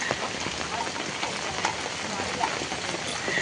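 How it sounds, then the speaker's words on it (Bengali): Dense, heavy rain pours steadily at Matheran hill station in India, a constant loud patter of drops hitting surfaces close by. "প্রচন্ড বৃষ্টি পড়ছে এখানে"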